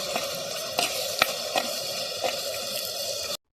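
Ginger garlic paste sizzles in a pan with softened onions, tomatoes and green chilies. It is a close, continuous frying hiss with a few sharp clacks from stirring, and it ends abruptly.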